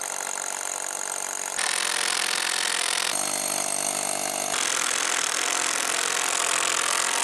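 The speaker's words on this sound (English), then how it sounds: "pick another one, drill another hole, install that" A power drill bores holes into concrete to mount a deck ledger, a loud, continuous grinding whine that shifts pitch between bursts and runs steadily throughout with no talk.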